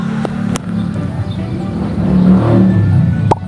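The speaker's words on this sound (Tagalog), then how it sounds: "Ingay na motor" A motor vehicle engine in the Roblox video game hums and revs up, getting louder toward the end, with a few sharp clicks and no clear talking over it.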